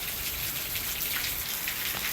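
Heavy rain from Hurricane Milton pours down in a dense, steady hiss, close and unbroken with no voices.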